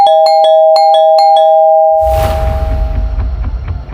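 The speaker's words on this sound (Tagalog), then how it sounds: "patuloy na pinipindot ang doorbell ng walang tigil" A doorbell chimes in rapid repeated dings, six quick strikes over a sustained tone, before a muffled rumble takes over.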